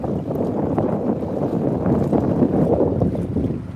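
Strong wind buffets the microphone on a floating pier in Baltimore's Canton Historic District, a loud continuous low rumble with gusty swells throughout and no voices.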